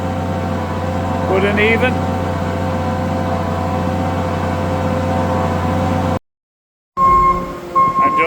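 A farm feed mixer wagon churns soy, grass silage and maize silage with a steady mechanical drone and hum, loud and continuous, as someone talks over it; a brief cut interrupts the sound before the engine resumes.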